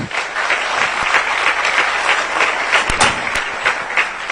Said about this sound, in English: Another round of applause to do for the little girl